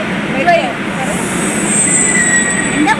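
A metro train rolls into a station with a loud, steady rumble and thin high wheel squeals, while voices murmur nearby.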